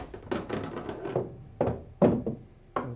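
During a 15-ball pool run, the cue ball and object balls knock together in a string of sharp, close clacks and duller thuds at uneven intervals, fairly quiet, with no voices.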